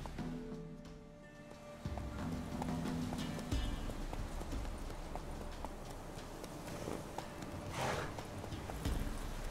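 The horse Roach galloping in The Witcher 3, a fast, even clip-clop of hooves over a rushing outdoor game ambience, with no talk.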